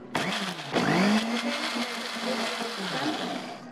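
A kitchen blender grinds bird's eye chilies into a coarse paste, a loud whirring motor that rises in pitch as it spins up, then holds a steady, slightly fluctuating buzz close by with no talking.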